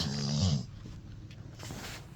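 An old dog gives a short low grumbling growl, close and soft, followed by quiet breathing and faint snuffling.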